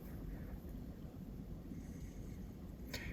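Steady wind gusting outdoors at a hunting spot, a continuous low roar buffeting the microphone throughout, with a brief faint rustle near the end and no talk.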